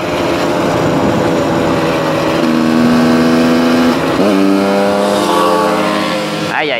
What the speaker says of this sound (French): je m'entends pas parler avec le bruit qu'elle fait cette moto.